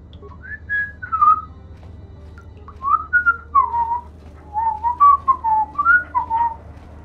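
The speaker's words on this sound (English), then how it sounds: "Why am I whistling? I hear that." Tuneful whistling in short melodic phrases in the video game Star Wars: Knights of the Old Republic, clear and fairly close, over a low steady hum with no talking.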